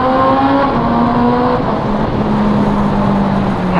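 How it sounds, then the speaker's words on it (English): Honda CB650R inline-four motorcycle with an Akrapovic exhaust revving hard inside a tunnel, a loud, close, sustained engine note that climbs and shifts in pitch, echoing with no talk over it. "I just wanted to hear a little bit more of the volume from this 4 inline engine."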